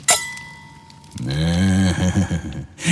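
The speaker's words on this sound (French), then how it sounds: "Trinquons." Glasses clinking in a toast for an Astérix le Gaulois audio drama: a sharp clink at the start, then a voice rising into a sustained harmonic tone, ending with another bright ring.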